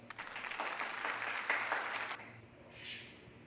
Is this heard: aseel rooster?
no